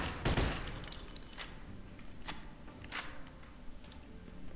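Gunfire in the Mafia 2 video game: a few sharp, spaced shots over a low ambient game background, moderately loud against a quiet bed.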